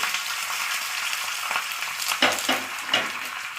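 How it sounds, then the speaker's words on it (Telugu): Oil sizzles steadily with a crackling hiss as tempering spices and curry leaves fry for brinjal pickle, and a few soft scrapes and clinks of stirring come through near the end. No one speaks. "తాలింపు అంతా బాగా వేగాక"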